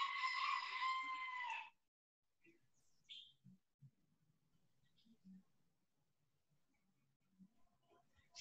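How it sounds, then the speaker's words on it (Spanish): A chick peeps in a loud, close, continuous shrill call for about a second and a half, then only faint scattered murmurs and small noises follow in a quiet room. "Un pollito te suena por ahí"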